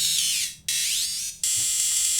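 Analog Rytm drum machine hi-hat made with metallic synthesis: three bright, hissing, tonal metallic hits, each sustaining with a slightly sweeping shimmer, played alone and up close.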